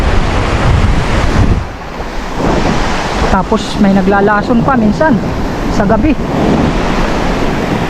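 Sea waves wash against a rocky shore where fishers set nets, a steady broadband surge with wind buffeting the microphone, while someone talks over it through most of the stretch.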